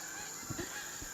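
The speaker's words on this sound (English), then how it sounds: "that's the beautiful geese here in Finland" A few geese honk in Finland, two or three short, fairly faint calls close together against a quiet background.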